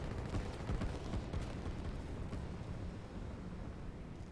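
Rockets fire in the strategy video game Line War as a steady, low, rumbling roar of explosive bursts that carries on without a break, heard alone at moderate volume.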